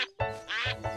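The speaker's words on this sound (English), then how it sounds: "He had discovered self-quacking duck mud." Cartoon duck quacks in a short burst, three or four bright nasal calls in quick succession, close and clear with no talk.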